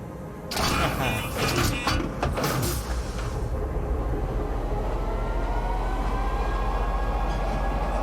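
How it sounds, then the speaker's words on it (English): A train pulling into a station platform in the space game Star Citizen, a loud rumble with clattering and hissing at first, settling into a steady low drone as it slows and stands. "Step away from the platform edge when train is approaching."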